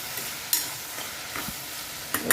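Okra curry (bhindi shaak) sizzles softly in a pan, a steady fine hiss broken by a few sharp clinks and scrapes of stirring.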